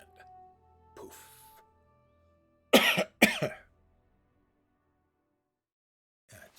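A person coughs twice in quick succession, loud and close, after a stretch of faint background murmur, with a brief soft sound near the end.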